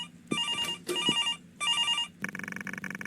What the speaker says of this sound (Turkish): Telefon cevap ver.